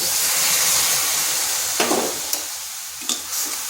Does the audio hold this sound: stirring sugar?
yes